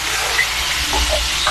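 Ingredients sauté in a hot pan, giving a steady, close sizzle and hiss throughout with faint scraping stirs and no talk over it.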